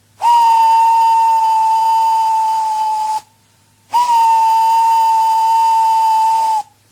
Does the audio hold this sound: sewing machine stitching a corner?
no